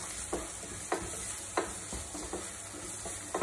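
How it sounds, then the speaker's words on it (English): Mushrooms stirred and fried with onions in a pan, a soft steady sizzle broken by several spaced scraping stirs, close and quiet with no talking. "I'm going to go with mushrooms first, because I just want to give them a good stir. Fry them"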